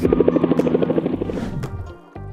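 Helicopter hovering close to a wild elephant, rapid rotor thumps beating in a fast steady rhythm, loud and near, then cutting off abruptly before a brief low hum returns.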